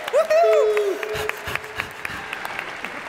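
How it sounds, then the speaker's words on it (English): An audience at a university event applauding, with a whoop and a shout up front, then scattered claps that thin out and trail off. "Give her a round of applause."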